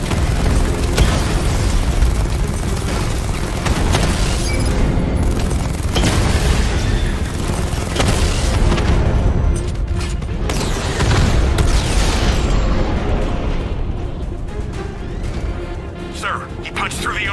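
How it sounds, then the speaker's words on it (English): Repeated heavy booms and explosive blasts of tank cannon fire in the video game Batman: Arkham Knight pound continuously over dense battle noise, with a voice speaking underneath. "Your 60mm cannon will penetrate these heavily armored units, but it'll take a few direct hits to destroy them."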